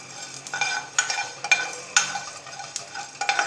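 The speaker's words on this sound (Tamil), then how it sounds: "அதுக்கப்புறம் மல்லியை வறுத்துக்கிடுவோம்" Coriander seeds dry roasting in a pan are stirred in quick, repeated scraping strokes, each a soft rattling swish, fairly quiet and close with no voices.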